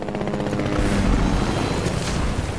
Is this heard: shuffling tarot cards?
no